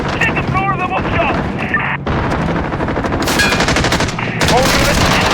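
Dense gunfire during a battle in Call of Duty: Modern Warfare (2019), with rapid shots and bursts filling the scene around Piccadilly, loud and continuous, with shouted voices mixed in.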